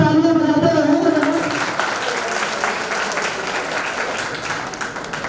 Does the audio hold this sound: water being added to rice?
no